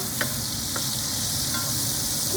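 Steak frying in a pan with butter melting around it, a steady close sizzle with faint stirring scrapes throughout.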